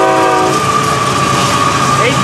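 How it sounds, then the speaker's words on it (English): A GE Evolution series locomotive pulling an LNG tender passes close and loud, its horn blaring over the rumble and wheel noise of the moving train on the FEC line. "2800 locomotives in the 300 series tender carrying LNG, liquefied natural gas."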